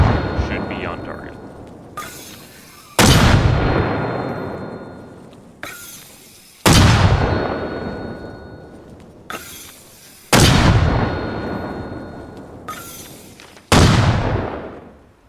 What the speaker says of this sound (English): I'm gonna grab our rounds, and then we're gonna fire again.